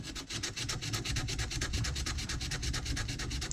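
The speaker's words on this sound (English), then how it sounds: "getting in there with some hand sandpaper" Sandpaper is rubbed by hand over a scroll-sawn wooden Christmas ornament, a close, steady rhythmic scratching of quick even back-and-forth strokes with no voices.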